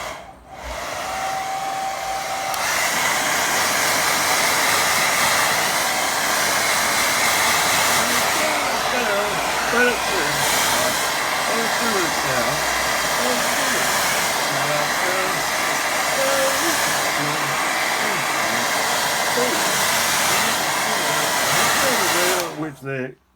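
A hair dryer blows steadily at close range over a watercolour painting of a lake, one continuous airy roar lasting about twenty seconds before cutting off.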